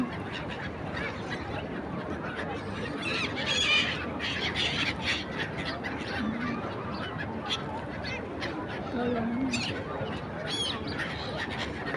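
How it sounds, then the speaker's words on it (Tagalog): A large flock of birds calls at sunset, a continuous chorus of honking and squawking, goose-like, spreading wide and fairly distant beneath steady outdoor background noise. "Ang daming ibon."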